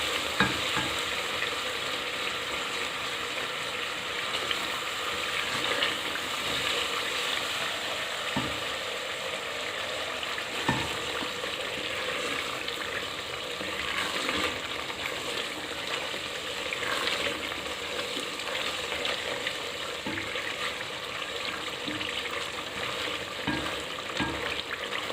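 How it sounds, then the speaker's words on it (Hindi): Masala for a fried egg curry sizzles steadily in oil in a pan, a continuous soft crackle broken by occasional scraping stirs of a spoon, with no voices. "ऑयल निकलने तक अब इसको मसाले को हम पकाते जाएंगे।"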